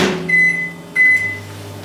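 Microwave oven heating oats with milk: two short electronic button beeps sound close and clear, followed by the low steady hum of the oven starting up.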